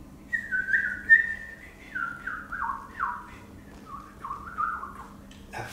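A voice whistles an imitation of birds singing, a run of sliding, warbling phrases that step downward in pitch, ending with a brief rustle. Close and fairly clear over faint background hum, with no talking.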